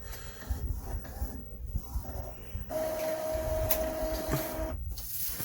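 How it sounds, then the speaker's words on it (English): An Epson ET-2720 inkjet printer runs a print job, with mechanical shuffling and clicks giving way to a steady whirring carriage tone, nearby and moderately quiet. "I'll just print a purge file to see how it come out."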